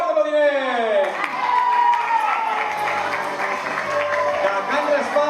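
Applause from an audience at a stage event in Sant Josep, starting as a bright sweeping tone then breaking into sustained clapping and crowd noise that fills the whole stretch.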